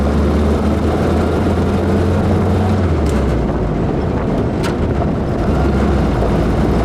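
Classic military vehicle engine driving off-road, a loud steady low rumble that drops in pitch as the gears shift partway through, with no talk over it.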